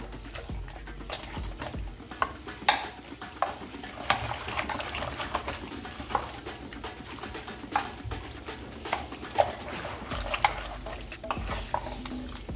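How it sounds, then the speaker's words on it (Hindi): A spoon stirs thick mutton curry in a pot, scraping and sloshing in an uneven rhythm with occasional metallic knocks against the pan. "इसे अच्छे से मिलाना है।"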